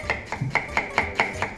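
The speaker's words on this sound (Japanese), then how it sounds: "潰れたらこれも切ればもうみじん切りです" A knife minces onion on a cutting board with seven quick, evenly spaced chops, crisp and close, with no other sound.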